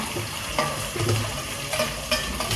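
Potatoes for aloo fry sizzle and crackle steadily in a hot pan while a utensil stirs and scrapes through them, with a few louder clattering strokes over the continuous frying hiss.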